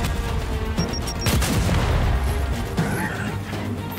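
Gunfire and blasts from the Gears 5 video game, a dense loud burst of shots and booming impacts running continuously under excited shouting.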